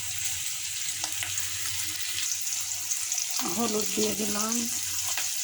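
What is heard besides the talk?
cauliflower being fried in a pan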